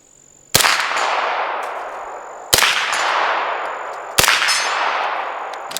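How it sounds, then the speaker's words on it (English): An AC Unity MP5 fires three single test rounds a couple of seconds apart, each a sharp, loud report with a metallic clang of the action cycling and a ringing tail; no one talks. "let's just do a couple rounds to make sure that it is cycling how it is supposed to cycle"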